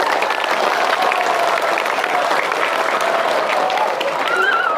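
Steady applause from a crowd, loud and sustained, with some cheering voices mixed in.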